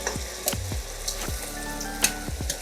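Previously fried onions stirred into a sizzling tomato and ginger-garlic paste mix for Thalassery chicken biryani, with a steady close-up frying hiss and repeated scraping strokes of a spoon against the pan.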